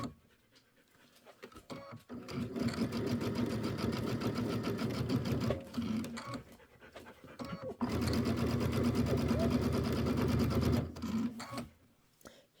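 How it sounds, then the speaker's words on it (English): Sewing machine stitching two quilt sections together, its fast steady needle rhythm running loud and close in two long bursts separated by a short pause. "we'll sew these two sections together"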